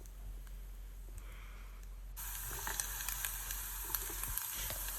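Green beans hit a hot pan of oats upma and set off a sudden, steady sizzle that follows a quieter hiss, sustained and close until the end.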